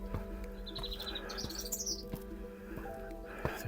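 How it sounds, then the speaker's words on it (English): Loud, shrill chirps from a bird on a grassy hill under blue sky, several quick tweeting bursts close by over outdoor rustle and handling noise. "a shouty bird, it doesn't want me here."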